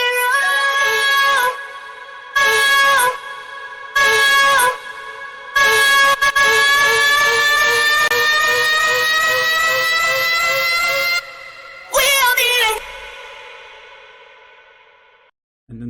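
Hardstyle mid intro built on a bright, sustained lead synth with stacked harmonics, chopped into pulsing sections by sidechain ducking, then briefly rising at the end before cutting out. No talking.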